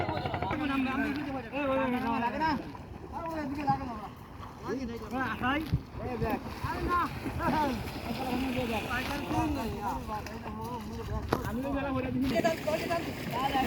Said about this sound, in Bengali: আমরা নৌকার ভিতরে আছি